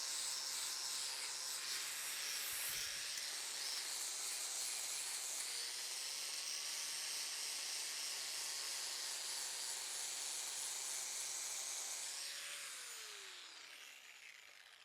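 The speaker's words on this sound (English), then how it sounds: "what I'm gonna do now is switch over to a flap disc, a 40 grit flap disc," 40 grit flap disc on an angle grinder grinding the surface of a rail anvil, a continuous high whine with a gritty hiss held for about twelve seconds, then spinning down and fading as the disc comes off.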